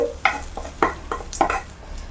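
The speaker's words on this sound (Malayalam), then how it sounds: "നമ്മുടെ കടുക് വറുത്ത്" Mustard seeds frying in hot oil to temper a bitter gourd curry, with about six sharp crackling pops and spatters spaced irregularly over a low background hum, close and fairly loud.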